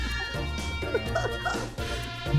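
Dogs bark and yip faintly in a room beneath a person's speech and laughter over game audio, with short excited barks scattered through the clip.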